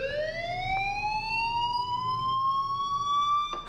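Fire alarm in the video game Life Is Strange, a steady electronic tone sweeping slowly upward in pitch, loud and continuous over a low background hum.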